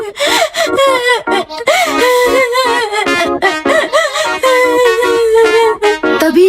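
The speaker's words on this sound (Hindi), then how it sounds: "दोनों बच्चों की रोने की आवाज" Two children cry and wail together, loud and close, in broken sobbing bursts with rising and falling moans over several seconds.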